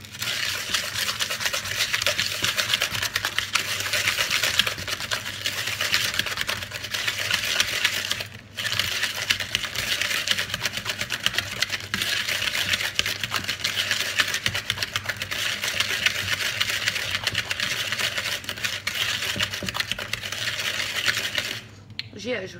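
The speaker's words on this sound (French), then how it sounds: "Je viens placer mes 2 jaunes d'œufs, mon sucre, je vais fouetter." Egg yolks and sugar are whisked briskly in a bowl for a custard cream, a fast and steady metallic clicking that carries on continuously, with one brief pause and a stop at the end.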